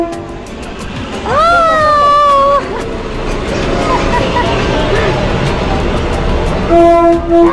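At the Maeklong railway market in Thailand, a train sounds its horn in bursts while approaching, its rumble steady beneath a crowd's busy chatter, with another horn blast near the end.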